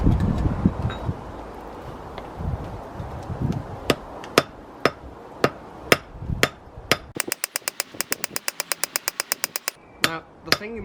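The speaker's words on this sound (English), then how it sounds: "I'm not using my biggest hammer" A blacksmith's hammer strikes hot iron while forging an arrowhead, the blows spaced out at first over a low rumble of the forge, then coming fast in a rapid, ringing series of sharp metallic hits.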